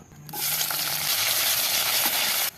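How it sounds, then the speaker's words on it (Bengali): Green chillies and onion frying in hot oil in a pan, a steady bright sizzle starting abruptly and holding loud and close for about two seconds before cutting off, with no talk. "প্রথমে দিয়ে দিম তেল কাঁচামরিচ পেঁয়াজ কুসন্যা"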